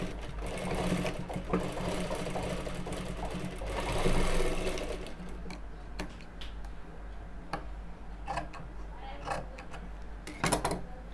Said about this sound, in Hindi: इस तरह से सेट करके सेम उसी तरह से इसको फोल्ड करके यहाँ पे सिलाई लगाएंगे।